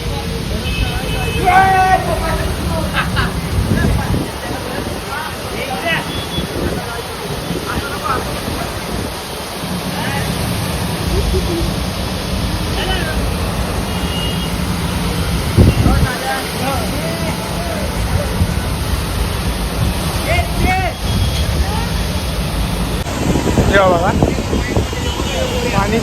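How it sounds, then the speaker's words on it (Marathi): Floodwater rushes over a closed road with a loud, constant roar mixed with wind buffeting the microphone, while people talk over it. "तसा महापूर आली असा पाणी आलेला आहे"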